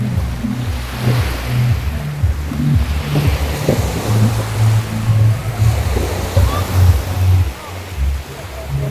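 Ocean waves roll onto a beach in Lobo, Batangas, a steady surging wash with wind buffeting the microphone and a low droning rumble underneath throughout.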